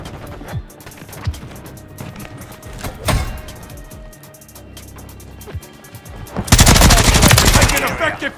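Bursts of gunfire in a Modern Warfare 3 multiplayer match on the Dust to Dust map, loud scattered shots early on, then a sustained heavy burst of automatic fire near the end, with game voices calling out.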